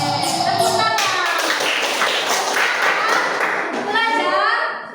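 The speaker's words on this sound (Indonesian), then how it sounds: "Tepuk tangan" Children in a classroom clap their hands in a brisk burst of rapid claps, close and loud, while young voices sing and call out over them.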